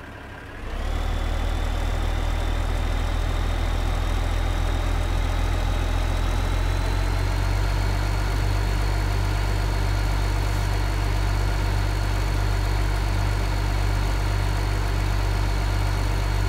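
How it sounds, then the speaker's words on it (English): Tractor engine idling in Farming Simulator 2015 during a logging session, a steady low rumble that starts after a brief pause and holds evenly and close for the whole stretch, with no talk over it. "Okay, we need to get our tractor going over there."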